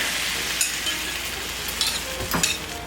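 Eggs cook into Hungarian lecso in a frying pan, a close, steady sizzle broken by a few scraping stirs of a utensil against the pan.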